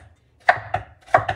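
A knife slices food on a cutting board in four crisp, close chops, arriving in two quick pairs with no talk.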